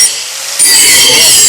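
A Caterpillar DX3092 hand grinder bevels an edge: after a quieter lead-in, a loud, steady abrasive hiss starts partway through and runs continuously to the end, with no speech.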